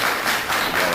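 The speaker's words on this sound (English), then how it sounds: "Please hold your applause." A brief burst of steady audience applause at a tax assessor candidate forum, dense and fairly loud for under a second.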